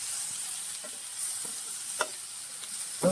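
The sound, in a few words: stirring ivy gourd with spices and green chili in pan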